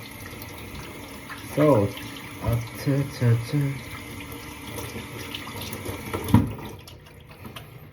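Tap water runs steadily over raw chicken being washed at a kitchen sink, with handling splashes in the middle and a voice speaking briefly over it.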